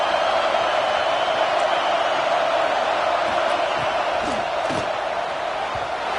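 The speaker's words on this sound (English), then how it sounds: "how nice is it to have the home crowd going absolutely bananas?" Home crowd roaring continuously at a college football game, Oregon against James Madison, a dense steady wall of cheering and noise with a few louder whoops rising near the end.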